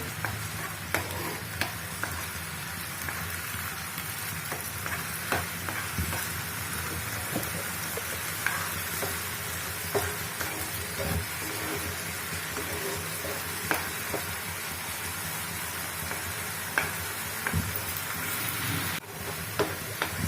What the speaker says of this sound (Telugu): చక్కగా వేగుతుంది కదా ఆనియన్ పేస్ట్